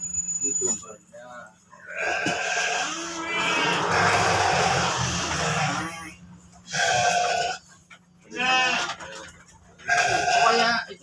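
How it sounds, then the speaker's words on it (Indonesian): Sheep on an Indonesian goat and sheep farm, with Texel and Merino breeds mentioned, make bleating calls in several separate bursts, close and loud, with people talking in between and over them. "Ini dombanya."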